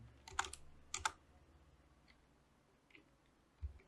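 Typing on a computer keyboard in a quiet room: two short bursts of crisp keystrokes at the start, followed by a few sparse, fainter taps, with no talking.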